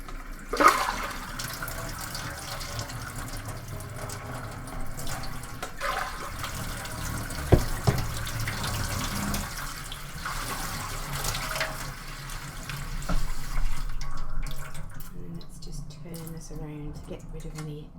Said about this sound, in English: I'm going to run some clean warm water, so with no washing up liquid in